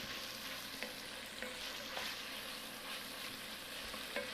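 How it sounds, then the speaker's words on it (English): Onions frying in a pan, with garlic and Calabrian chili, give a steady crackling sizzle with occasional sharp pops and stirring clicks, close and continuous. "we're going to cook these onions until they become a little bit translucent"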